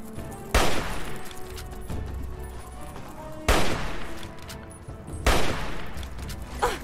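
Gunfire in the video game Fallout 3: three loud bursts of shots about every two and a half seconds, each with a trailing rumble, over a steady background of game ambience.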